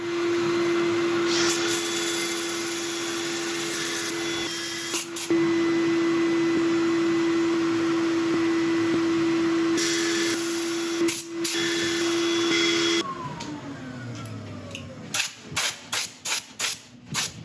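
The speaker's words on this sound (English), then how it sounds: "I'll let you watch a bit of the sanding" A wooden woodturned bowl inlaid with epoxy resin is sanded with a steady, loud, whining hiss that runs for several seconds, then cuts out into a series of short, choppy bursts.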